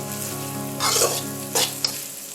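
Vegetables frying in butter in a pan for fried rice, a loud continuous sizzle with bursts as the food is stirred, no talking.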